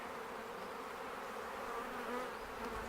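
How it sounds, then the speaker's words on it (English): A dense mass of honey bees hums steadily and evenly as they are shaken into a hive box during a colony split with many drones, a continuous close buzz with no pauses. "I'll actually shake some more bees into this box"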